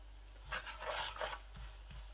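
Spices stirred and sizzling in hot ghee in a kadai: a quiet, close sizzle under several soft scraping stir strokes, with a low steady hum beneath and no voices.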